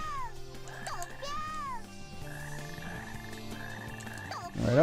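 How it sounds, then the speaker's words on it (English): Frog croaking from the Sonic Heroes video game, a deep repeated croak over game music and sound effects at a steady level, with no talking. "Have you ever heard a frog croaking sound so menacing before?"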